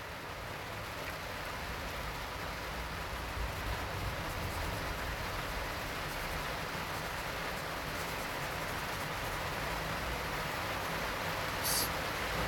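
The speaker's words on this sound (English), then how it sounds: "And it's raining, but I'm okay with that." Steady broadband hiss of rain falling, continuous and even throughout with no talking.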